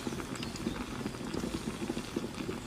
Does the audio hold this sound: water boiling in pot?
yes